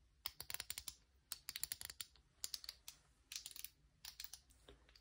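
Lego-like plastic fidget toy pieces click and snap together close up, a quick irregular run of crisp, light clicks in bursts with brief pauses, no talking.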